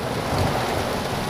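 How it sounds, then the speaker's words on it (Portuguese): Heavy rain pours down in a dense, continuous hiss, loud and close with no pauses. "Começou a chover. Muita chuva. Chovendo forte."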